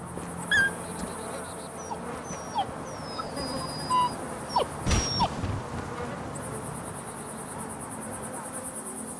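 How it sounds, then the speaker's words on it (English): In Just Cause 3, a stray dog rummaging through rubbish whimpers in a series of short, high, whistling whines, spaced irregularly over a constant chorus of crickets and insects. "you can find a stray dog rummaging through piles of rubbish"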